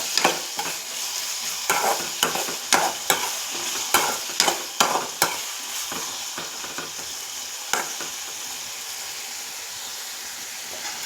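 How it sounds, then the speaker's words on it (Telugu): Chopped tomatoes are stirred into softened onions in a pan for a chana dal masala curry, giving close, loud rhythmic scraping strokes over a steady frying sizzle that fades to a quieter hiss. "ఇప్పుడు కట్ చేసి పెట్టుకున్న టమాటా కూడా వేస్తున్నాను. ఇది కూడా బాగా కలుపుకుందాం."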